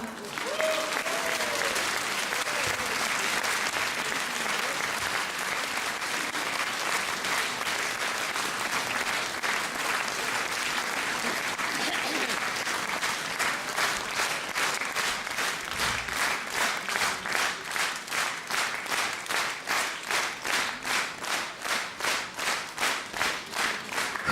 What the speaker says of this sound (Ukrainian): Дякую за щирі оплески.